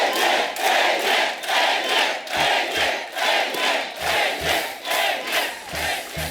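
A studio audience at a comedy show claps and cheers to welcome actor Ajay Devgn, loud crowd noise swelling in waves with rhythmic beats thumping through the later part.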